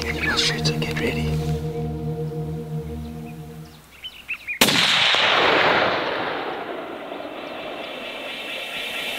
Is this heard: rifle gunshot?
yes